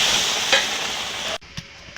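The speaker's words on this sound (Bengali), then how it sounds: "মশলাটা কষিয়ে নিয়েছে, এবার জল দিয়ে দেবো।" Spice paste for egg curry fries with a loud hiss, then water poured into the pan abruptly cuts the sizzle, leaving a quieter bubbling with a couple of soft knocks.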